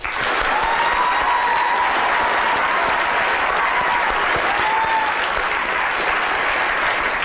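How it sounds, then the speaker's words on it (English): A lecture audience applauds steadily, with dense continuous clapping at an even level from start to finish. "could we give a warm round of applause to Talia and Professor Ian Lyburn?"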